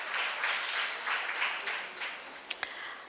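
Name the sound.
audience applause, hand clap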